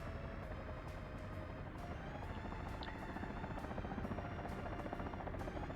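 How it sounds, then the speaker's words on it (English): A helicopter in the city-building video game Workers and Resources keeps up a steady rotor thrum with repeated clicking chops, heard alone and moderately loud. "Unless the helicopter is really good."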